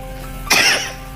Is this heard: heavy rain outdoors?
no